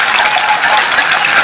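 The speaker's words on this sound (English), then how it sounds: "pour our milk right over top of that" Milk is poured over melted butter and sauce powder in a pan, a steady, loud, close gush of liquid that runs without a break.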